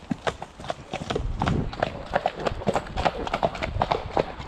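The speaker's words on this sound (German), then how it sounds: "Wir traben erstmal an, ja?" Horse hooves trot in a steady clip-clop rhythm on a ride, close and clear, with Shire horses near the Baltic coast and a rider's voice faintly mixed in.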